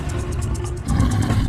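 A tiger roars in a deep, rumbling growl, broken by a brief dip before a second louder surge, close and heavy, with no voices.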